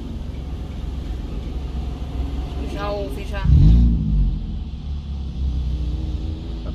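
A Hyundai HB20 fitted with a 2.5-inch exhaust diffuser idles with a steady, close, low rumble throughout, a brief heavier throb swelling near the middle while someone speaks a few words over it.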